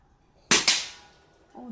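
Two sharp, quick cracks from a shot fired at a 25 meter target ring out close together, followed by a fading echo and a voice starting to speak.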